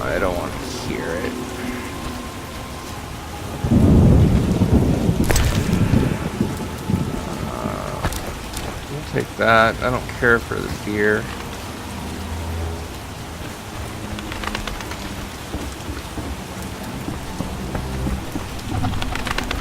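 Steady rain falls with rumbles of thunder in The Witcher video game, a continuous wash of downpour under game character dialogue, with a louder thunder roll partway through.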